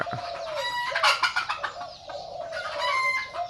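A fighting rooster crows close by in a rural Thai village setting, one drawn-out cock-a-doodle-doo followed by a second call, moderately loud, with faint background noise.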